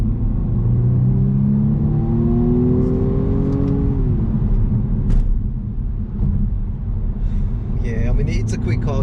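A 2020 BMW M135i F40 engine climbs steadily in pitch under hard acceleration after a downshift, then drops off as the gear changes, loud and close from inside the cabin, with a few faint clicks near the end.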